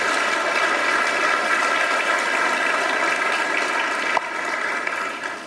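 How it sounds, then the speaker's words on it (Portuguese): A church congregation applauds during a service, a steady wash of clapping that holds at even loudness and then thins slightly toward the end. "E um aplauso, o melhor que você pode dar para o Senhor."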